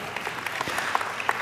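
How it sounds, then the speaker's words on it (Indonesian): Short burst of sparse, somewhat half-hearted audience applause in a church service, scattered claps heard fairly close. "Dari tepuk tangannya sih bukan tepuk tangan antusias nih"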